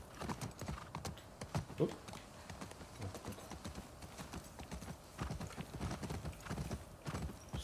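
A horse's hooves clip-clop in a steady walking rhythm in a video game set in Seattle, with someone talking over the footsteps.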